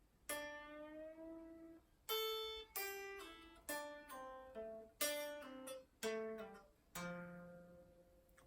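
A guitar plays the first section of the solo slowly, a string of separate picked and sustained notes with some bends, clear and unaccompanied.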